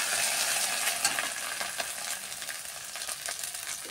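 Cumin, dry red chilli and ginger paste frying in hot oil, a dense crackling sizzle with scattered spatula scrapes, loud and close throughout.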